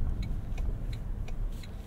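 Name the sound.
electric motor whirring of 2023 Toyota Sequoia hybrid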